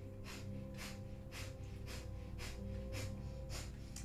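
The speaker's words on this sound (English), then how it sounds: "we're going to begin a minute of breath of fire here. Panting like a dog through the nose." Breath of fire in a Kundalini yoga session: rapid, rhythmic panting through the nose, about two sharp breaths per second, close and steady with no talking.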